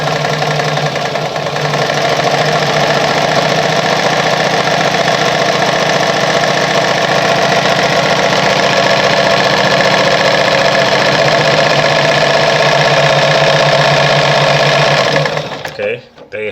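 A Pioneer heavy-duty semi-industrial sewing machine sewing a close zigzag stitch runs loud and steady with a fast mechanical chatter and hum, then slows and stops near the end.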